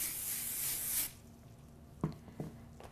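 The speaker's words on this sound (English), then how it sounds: "we're going to spray it." A short hiss of hairspray sprayed onto curled long hair for about a second, close by, followed by a few soft handling taps.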